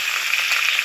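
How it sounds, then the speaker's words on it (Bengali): Ginger paste is stirred into hot mustard oil with chopped tomatoes in a frying pan for a prawn and cauliflower curry, giving a steady, close hiss of sizzling with no talk. "পেস্ট করা আদাটা, দিয়ে একটু ভালো করে নেড়ে"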